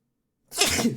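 A single sharp sneeze bursts out after half a second of silence, close and loud.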